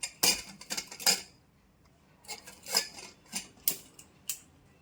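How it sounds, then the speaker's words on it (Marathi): A pressure cooker lid is fitted and closed over prawn biryani, giving a series of sharp metallic clanks, clicks and scrapes in short bursts, close and fairly loud with quiet gaps between them. "आता मी झाकण लावतो कुकरचा"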